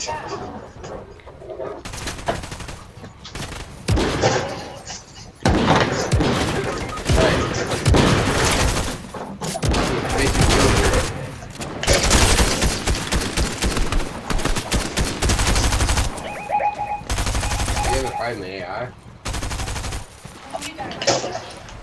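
Rapid bursts of gunfire in the video game Fortnite, from sniper and automatic weapons, come in loud, dense, overlapping volleys with brief gaps of quiet between them.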